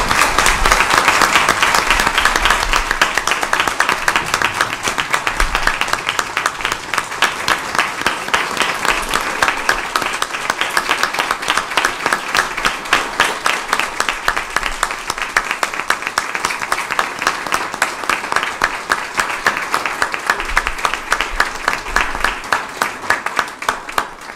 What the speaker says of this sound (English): Would you all please just join me in a quick round of applause for Kathy and the incredible work.